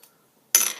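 A bottle of Lagunitas Lucky 13 Mondo Red Ale, 2017 limited release, is opened with a sudden, brief, bright hiss right after a near-silent pause, fading quickly.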